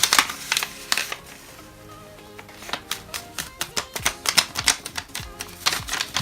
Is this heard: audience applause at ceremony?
no